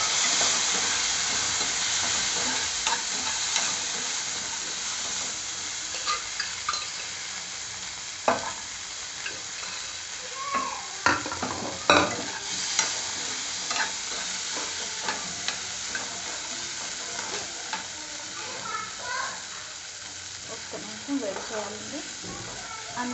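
Chickpeas stir-fry with turmeric in a pan without water: a continuous close sizzle and hiss, punctuated by irregular scraping stirs and spatula knocks throughout.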